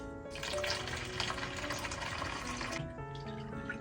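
Hot water is poured into a jar to dissolve fabric, a steady splashing trickle up close for a few seconds, then tapering into a brief quieter pour.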